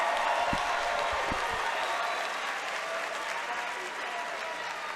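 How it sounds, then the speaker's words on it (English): An audience at a cage-fighting event applauds both fighters after a three-round bout, a dense wash of clapping that holds steady and fades slightly toward the end. "let's give both fighters a big round of applause"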